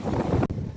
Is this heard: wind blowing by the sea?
yes